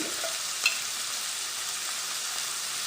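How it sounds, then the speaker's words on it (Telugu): Onion and green chili frying in hot oil for a prawn tomato masala gravy, giving a steady, even sizzle throughout with one brief stir or clink near the start, no talking. "ఆయిల్ హీట్ అయింది ఇప్పుడు ఉల్లిపాయ పచ్చిమిర్చి వేసి ఫ్రై చేసుకోవాలి"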